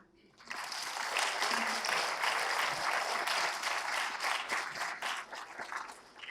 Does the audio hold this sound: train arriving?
no